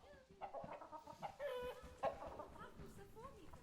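A chicken clucks in a barn in the Planet Zoo video game, giving short repeated clucks and a rising call at close range, while a voice talks over it.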